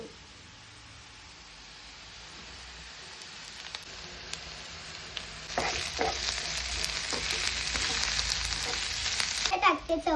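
Onion, crushed chilli and garlic sizzle and fry in a pan for a chutney, a steady broadband hiss that swells louder partway through as ingredients go in, with occasional stirring scrapes and no talking.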